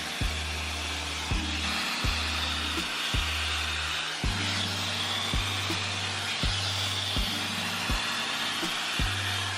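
A hair dryer blows steadily while hair is being blow-dried, its hum cycling in regular pulses with brief clicks every second or so, moderately loud and with no talking.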